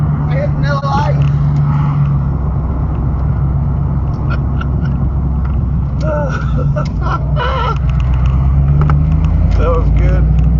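A 5.0 convertible drives with its top down, a steady engine and road rumble with rushing wind, while a person talks over it almost the whole time.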